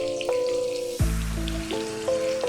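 Chopped onions frying steadily in a pan for a sweet-and-sour chicken dish, a soft continuous sizzle with a faint tonal hum running beneath it and a brief thump partway through.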